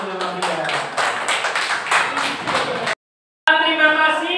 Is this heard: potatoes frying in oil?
no